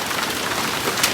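Dense, loud hail falling in a hailstorm, an unbroken rattling patter close by that holds steady through the brief moment with no voices.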